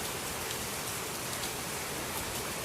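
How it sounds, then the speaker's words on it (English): Heavy rain pours steadily during Hurricane Matthew, a dense, loud, unbroken wash of drops hitting surfaces and a nearby rain gutter, with no voices. "it's been raining for at least a few minutes"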